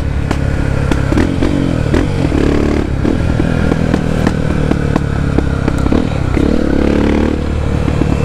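A Honda XR Tornado motorcycle fitted with a Belparts Classic exhaust idles and blips up close, its loud, throaty rumble broken by crackles and pops from the pipe.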